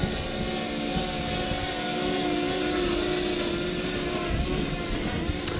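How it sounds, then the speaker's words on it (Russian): A Parrot Anafi drone climbs skyward in Crimea, its rotors giving a steady, close, high-pitched whine that holds level throughout with no speech. "Давайте поднимем дрон вверх."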